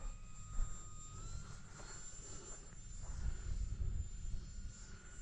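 A SIG Four Star 20 electric RC model airplane flies overhead in gusty wind, its steady motor whine holding level and swelling slightly as it passes, with wind buffeting underneath.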